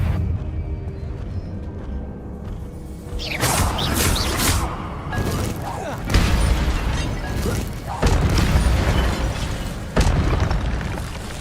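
Bombarda spell blasts in Hogwarts Legacy on PC, a series of loud, booming explosive bursts with rumbling, crackling tails, landing in irregular waves after a quieter opening.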